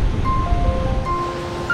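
Water pouring below the second of the Crescent Falls double waterfalls near Nordegg, a broad, steady rushing roar close by with a few faint high tones over it.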